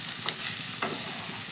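Cauliflower pieces, presoaked in hot salted water, fry in oil in a kadai with a steady close sizzle, broken by two quick scraping stirs of a spatula.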